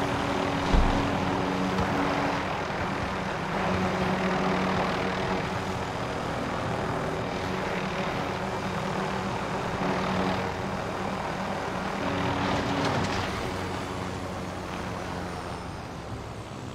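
A video game helicopter's engine drones loudly and steadily from close by throughout, with a faint rotor texture and no talking over it.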